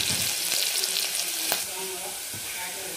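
Plenty of crushed garlic and cumin sauté in hot oil in a pan, with a constant bright sizzle and a few stirring scrapes, louder at first and then settling, with no one talking.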